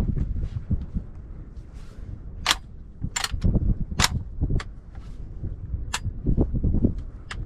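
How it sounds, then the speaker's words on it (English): A fully automatic shotgun fires during a sea duck hunt at Cedar Island: several loud, sharp blasts in irregular quick succession, close by, with low handling noise between shots. "We got a fully automatic gun."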